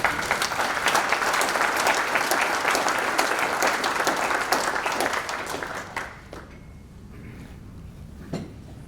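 An audience at a fall banquet applauds in a dense, sustained round of clapping that fades out after several seconds, leaving a couple of stray claps.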